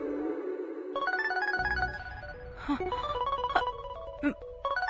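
A phone ringtone in a Telugu TV serial scene, a bright melodic electronic ring of repeated tones, preceded by a brief low drone, with a few soft clicks between notes.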